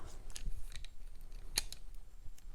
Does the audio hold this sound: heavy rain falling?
no